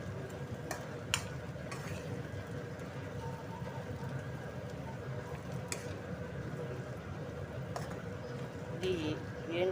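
A spoon stirs an ivy gourd (donda) and onion curry in a pan, producing soft, repeated scraping and a low sizzle, with occasional sharp clinks against the pan.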